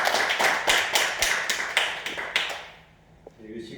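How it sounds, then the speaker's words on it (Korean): A church congregation claps in a steady rhythm of sharp, evenly spaced claps for a few seconds, then fades out into near silence with faint sounds. "박수로 하나님께 영광 돌리겠습니다"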